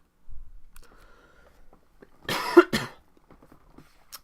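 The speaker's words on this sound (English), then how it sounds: "Trying not to deafen you there with my cough." One loud, harsh cough bursts out close up in a quiet room, followed by a smaller second cough and faint shuffling.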